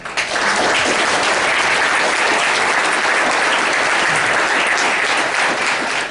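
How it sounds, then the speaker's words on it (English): Sustained loud applause from a hall-of-fame induction audience at Carlson High School, with dense clapping that holds steady and close throughout without pausing. "So give yourself a round of applause."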